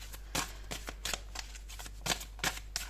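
Oracle cards are shuffled for a reading, giving soft, irregular papery riffles and slaps up close in a quiet room.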